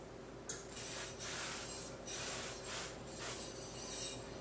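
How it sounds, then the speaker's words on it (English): Several short hissing bursts from a can of non-stick cooking spray, close by and fairly quiet, coming in quick uneven pulses. "I'm going to spray this with some non-stick spray"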